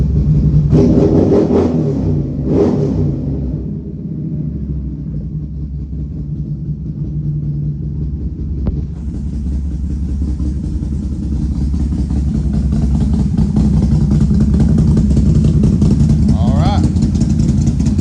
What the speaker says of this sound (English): Click in sport mode. Let's check throttle response.